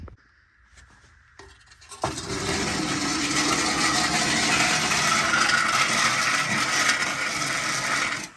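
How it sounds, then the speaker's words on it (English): Removed stock exhaust off a 1991 Eagle Talon Turbo, with muffler, cat and flex pipe, scraped across a garage floor after a few faint knocks, making a loud, continuous rough grinding drag for several seconds, with no talking. "we're gonna go ahead and drag it out and put it next to the other one"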